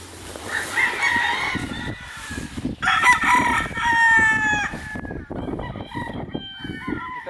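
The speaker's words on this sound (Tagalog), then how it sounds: "Kita niyo naman ang daming manok." A rooster crows loudly and repeatedly over steady clucking from a large flock of chickens, close by, with brief pauses between calls.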